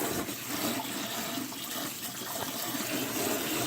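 Running water pours steadily while cooked noodles are rinsed and left to drain, a continuous close splashing wash with no talking.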